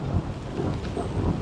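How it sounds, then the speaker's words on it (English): Thunder rumbles low and continuous through a storm in the woods during deer hunting season, with steady rain hissing on surfaces, no voices. "I'm getting a lot of thunder and flashes of lightning"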